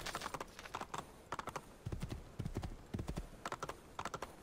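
Horse hooves clip-clop in a quick, steady galloping rhythm in Assassin's Creed II, the repeated strikes fairly close and clear without talk.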